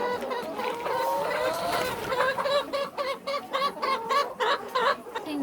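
A flock of chickens inside a chicken house cluck and squawk continuously in a dense, busy chorus, close and fairly loud, with no talking.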